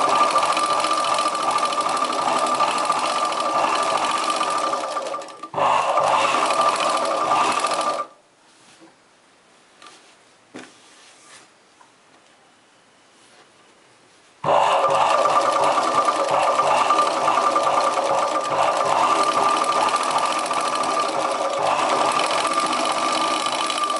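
A sewing machine stitches a chudidar top with a loud, close, steady mechanical hum, running for several seconds, stopping for a quiet gap with small handling noises, then resuming at the same pace.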